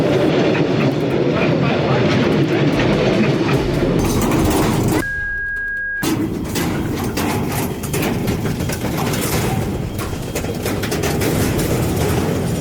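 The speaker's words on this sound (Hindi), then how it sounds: "जब ट्रेन गुजरती है तो मंजर देखने वाला होता है।" A train passes through a market set beside the tracks, giving a loud, continuous rumble and clatter close by, with a brief high horn-like tone in the middle and background noise throughout.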